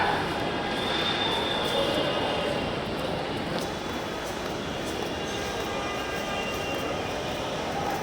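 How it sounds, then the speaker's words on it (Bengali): A Dhaka metro rail train pulls into a station with a steady rumble and rolling rail noise that stays loud throughout, along with faint high squeals. "ওই যে রেল আসতেছে। এই যে মেট্রো রেল চলে এলো"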